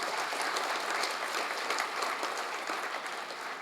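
An audience at a motivational talk on brain power breaks into sustained applause, a dense, even wash of many hands clapping at moderate distance that continues steadily throughout.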